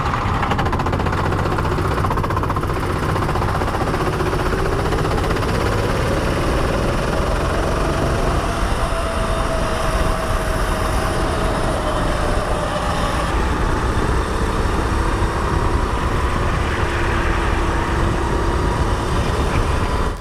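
A racing kart engine drones steadily and loudly throughout a lap on track, with a constant low rumble, faint rising and falling pitch under it, and no pauses.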